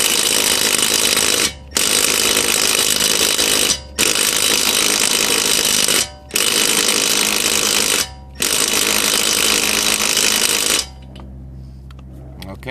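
A Milwaukee 12V impact driver hammers on car lug nuts in four loud, sustained rattling bursts separated by short pauses, then goes quiet with faint handling noise.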